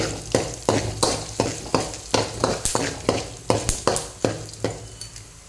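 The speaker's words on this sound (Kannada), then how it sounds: "ಮೂರು ಚಮಚ ಕೊತ್ತಂಬರಿ ಕಾಳು ಹಾಕೊಂಡು ಫ್ರೈ ಮಾಡ್ಕೊಳ್ಳಿ ಸ್ವಲ್ಪ" Coriander seeds fry in a pan with a steady sizzle, punctuated by about a dozen rhythmic scraping strokes of a spoon stirring them, close and clear, with no voices.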